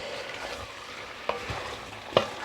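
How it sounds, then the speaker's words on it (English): Aloo gobi in progress: potatoes and cauliflower stirred through masala in a pan, giving a low, steady sizzle with two sharp clacks of the spoon against the pan. "And then just give that a mix in that masala"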